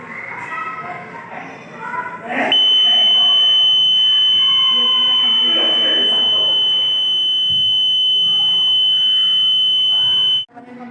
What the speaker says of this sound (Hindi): हम स्टार्टर को हीट करेंगे तो ये अलार्म बजेगा।